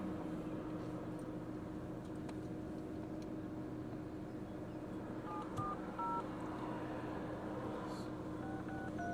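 A telephone keypad dials a fax number in a string of short dual-tone beeps, grouped in bursts near the end over a steady low engine-like hum and background noise.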